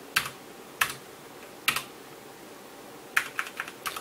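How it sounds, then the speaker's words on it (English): Crisp clicky keystrokes on a Velocifire TKL01 mechanical keyboard, a few isolated presses and then a quick cluster, close and fairly quiet with no talking. "as you can see here, the keyboard feels great and it sounds great."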